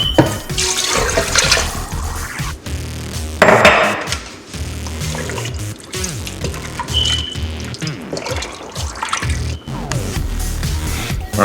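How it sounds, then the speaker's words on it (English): Four cups of water pour into a pot of chicken broth for red beans and rice, a close, steady splashing stream with a few clunks and pauses as the container shifts, no talking. "And now I'm going to add 4 cups of water."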